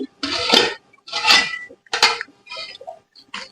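A lid is lifted off a pot of cooking rice for ragi sangati and the contents are stirred, giving several separate metallic scrapes and clanks in bursts, close and fairly loud with short gaps between them.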